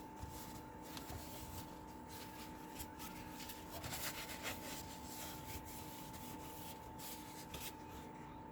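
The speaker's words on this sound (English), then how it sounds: "I'm going to take some alcohol and rub all that off." Faint, steady rubbing as alcohol is wiped over a Monoprice MP Mini SLA resin 3D printer to clean off residue, with a few slightly louder scrubbing passes over a constant low hum and no talking.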